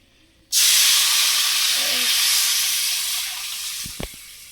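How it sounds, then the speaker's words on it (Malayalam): Tamarind water poured into a hot pan sets off a sudden loud, steady hiss of steam that slowly fades, followed by a couple of clinks. "പുളിവെള്ളം എടുത്ത പുളിവെള്ളം ഒഴിച്ചു കൊടുക്കാം"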